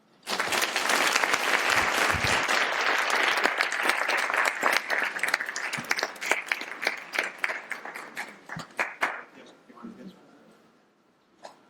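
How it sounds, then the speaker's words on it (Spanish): Audience applause at a psychology of magic conference at a Madrid university, a dense, steady burst of many hands clapping that thins into scattered individual claps before fading out. "otro aplauso"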